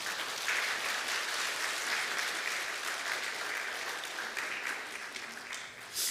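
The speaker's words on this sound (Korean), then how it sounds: "박수로 한번 맞이할까요?" A church congregation at a Sunday worship service in Bellevue breaks into warm, sustained applause to welcome a baby, a dense, even clapping from many hands that holds for about six seconds.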